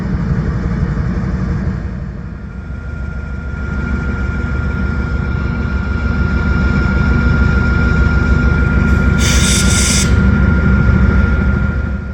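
Norfolk Southern freight locomotives 4302, 4138 and 4877 rumble steadily in a rail yard at Mingo Junction, a loud continuous low diesel drone with a sustained tone and a brief hiss near the end, no talk.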